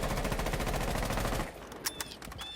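A sustained burst of rapid automatic gunfire sprays at a 10-meter target in Rainbow Six Siege, firing loud and fast for about a second and a half before cutting off, followed by faint clinks and game sounds.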